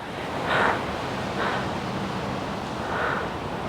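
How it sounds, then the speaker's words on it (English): Strong wind from Storm Bert gusting outdoors over a garden plot, a constant roaring rush on the microphone that swells into several louder gusts. "it is so windy."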